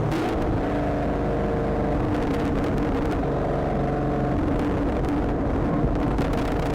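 A 2019 Camaro SS 1LE burbles and rumbles through its exhaust while the active rev match holds the revs, a loud continuous low growl with swelling and fading pulses.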